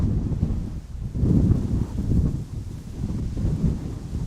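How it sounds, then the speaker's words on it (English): Strong wind roars across a hillside in gusty, low rumbling waves that buffet the microphone, rising and falling steadily with no voices. "it's pretty windy, and that's expected to continue throughout the night"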